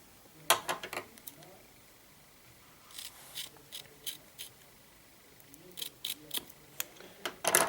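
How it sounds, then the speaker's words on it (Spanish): Scissors snip through the aramid Kevlar yarn and red thread of an optical fibre cable: a run of sharp, close metallic clicks, with several quick cuts early on, then more scattered snips and a cluster near the end. "tanto la aramida como el hilo rojo lo debemos cortar"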